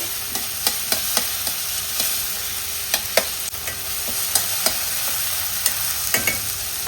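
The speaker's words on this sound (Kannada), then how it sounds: "ಒಂದು ಈರುಳ್ಳಿ ಹಾಗೆ ಒಂದು ಟೊಮೆಟೊ, ಇವೆರಡನ್ನು ಒಮ್ಮೆ ಫ್ರೈ ಮಾಡಿಕೊಂಡು" Onion and tomato sizzle in a frying pan for a fish masala, with a steady hiss broken by frequent sharp clicks of a spatula scraping and stirring, close and clear.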